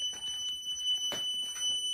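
A CarProtec vehicle alarm on a leisure vehicle sounds as a steady high electronic tone held throughout, with brief broadband bursts and faint background noise around it.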